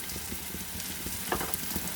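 Chopped chili, garlic and onion fry in oil for a dal, making a close, continuous crackling sizzle with a few light stirring taps and no voices.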